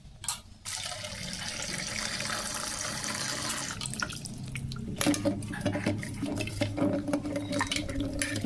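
A tap runs steadily into a sink while fresh carrots are washed, the flow hissing continuously after a brief quiet start and turning louder and more splashy about halfway through as hands work under the water.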